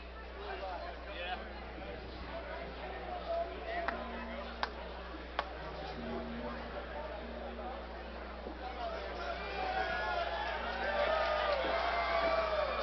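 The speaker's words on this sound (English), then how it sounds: "Some audibly loud screams from the crowd." Fans at the KCFA 22 MMA event scream and cheer as a fighter walks out. The crowd is a steady roar under commentators' voices and swells louder over the last few seconds.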